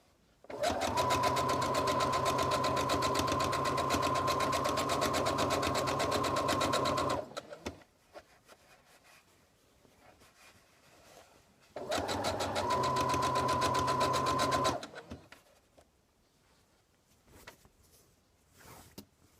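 Domestic sewing machine stitching a pillowcase seam, close and loud with a rapid regular needle clatter in two bursts of several seconds each, separated by quiet handling sounds of fabric, no speech.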